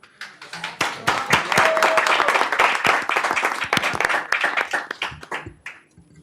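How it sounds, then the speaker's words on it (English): A room of people at a school board meeting applauds Jamal, a Youth of the Year honoree, in a loud, dense burst of clapping that builds quickly, holds steady and then thins into scattered claps at the end. A few voices come up under the clapping. "give another round of applause to Jamal"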